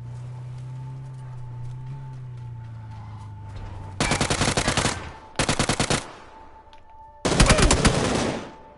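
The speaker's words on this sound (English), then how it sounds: "I shoot him." Bursts of automatic gunfire from a PS4 shooter game, three loud rapid-fire volleys of about a second each, separated by short pauses over a quiet game background.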